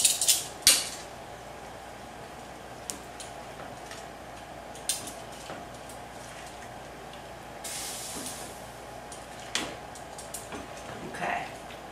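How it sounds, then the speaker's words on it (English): Metal tongs press kale down into a pot, making scattered metallic clinks and scrapes over a soft, steady hiss. A few sharper knocks come near the start and at intervals after that. "I'm going to use these tongs to press this down and make sure it all gets in there"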